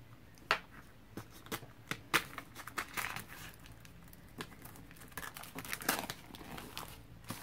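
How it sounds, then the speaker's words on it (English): Plastic wrap is cut and crinkled off a leather-bound book. The crackling comes up close and quiet, in irregular bursts of sharp crinkles and snips with brief pauses between them. "I'm going to open this up. I am dying to see what is inside this book. So I'm just going to cut the plastic."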